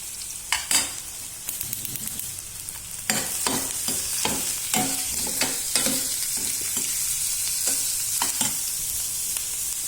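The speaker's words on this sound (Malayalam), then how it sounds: "കുറച്ച് വെളുത്തുള്ളി, കറിവേപ്പില, വെളുത്തുള്ളി ഇതൊക്കെ ഇട്ടിട്ട് ഒന്ന് നന്നായിട്ട്" Garlic and curry leaves sizzle steadily in a hot pan with onion while a spoon stirs and scrapes in repeated strokes, close and continuous.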